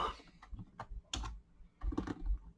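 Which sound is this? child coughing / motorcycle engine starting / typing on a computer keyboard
typing on a computer keyboard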